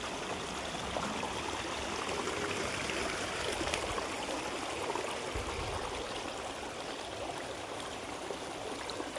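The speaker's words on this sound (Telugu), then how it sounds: "బుల్లి వాటర్ఫాల్." Small hidden waterfall stream near Mazidpur village by Ramoji Film City, Hyderabad: a steady, soft rushing flow of water runs evenly throughout, faint and uninterrupted, with no voices.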